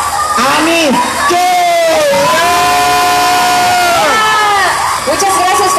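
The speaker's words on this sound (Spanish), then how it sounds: "Con un fuerte aplauso a Ani K." An event crowd cheers loudly, with shouts and whoops layered over one another continuously for several seconds, close and dense, while voices call out among the noise.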